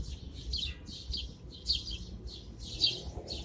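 Many birds chirp from a nest in an urban city, quick bright tweets in repeated bursts over a low background rumble of city noise.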